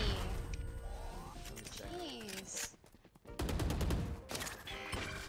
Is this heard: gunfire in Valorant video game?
yes